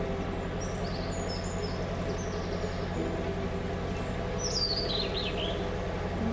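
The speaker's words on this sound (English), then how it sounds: "Pretty birds." Several birds chirp and sing high overhead, scattered calls over a steady low engine hum.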